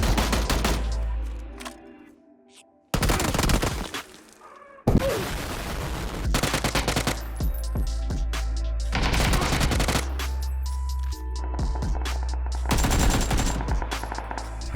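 Gunfire in the video game PUBG, rapid automatic bursts and single loud shots in several volleys with brief silent gaps, close and loud with no talk.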